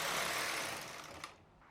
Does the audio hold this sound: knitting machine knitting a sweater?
yes